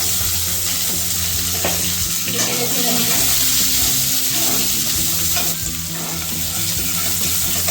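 Onion and a torn bay leaf fry in hot oil for a Bengali lau chingri dish, giving a loud continuous sizzle with crackles and occasional utensil scrapes throughout, no talk over it.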